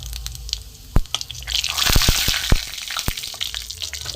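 Panch phoron spices, a bay leaf and a cut dry red chilli crackle in hot mustard oil, sharp irregular pops and spits over a steady sizzle, loud and close, without talk.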